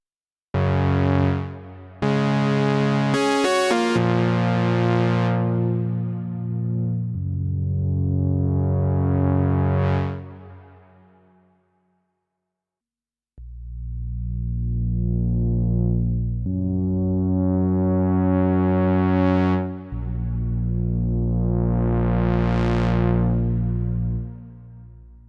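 Moog Sub 37 lead synth with a square-wave sub-oscillator and reverb plays a series of loud sustained notes with swelling filter sweeps, a short gap near the middle, and no voices.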